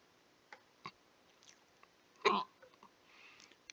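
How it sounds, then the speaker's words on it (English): A single sharp hiccup-like burst stands out at mid-clip, loud against quiet room tone, with a few faint clicks and smaller sounds scattered around it. "Got the hiccups again."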